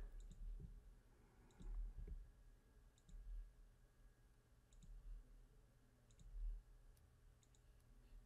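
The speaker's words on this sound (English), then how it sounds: "Roller Mouse has a special button for a double click" A Contour RollerMouse Pro's dedicated double-click button, heard as faint, crisp paired clicks repeating every second or so in a quiet room.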